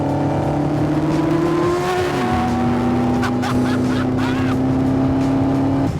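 A GBS Zero sports car drives a damp race track at Blyton Park, its engine a loud, steady drone that shifts pitch as it slows for a tight hairpin, heard continuously from close by.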